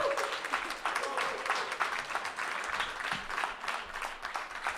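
Studio audience at a French-language talk show applauds steadily at the close of an episode, a dense, continuous wash of clapping with some crowd noise and a few voices underneath.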